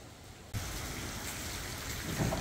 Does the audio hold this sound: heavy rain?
yes